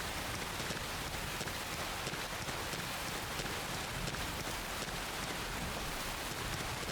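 Rain in the video game Xenoblade Chronicles X: a dense, even hiss of downpour that holds steady throughout, with no voices over it.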